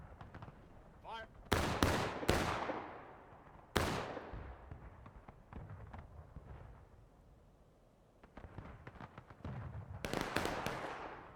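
Musket volleys crack out in the War of Rights video game, with loud sharp blasts in rapid clusters followed by long echoing rumbles, then more scattered shots near and far. People talk underneath.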